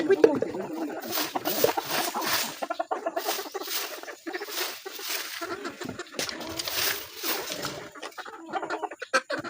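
Backyard chickens cluck and squawk in repeated bursts close by, with a person talking over them in a rural morning setting.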